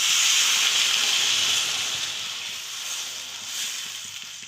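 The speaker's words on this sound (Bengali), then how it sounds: "জল দেবো।" Water poured into sizzling masala in a pan for bitter gourd curry, a loud hiss and steamy sizzle that is strongest at first and slowly eases off, heard close with no talking.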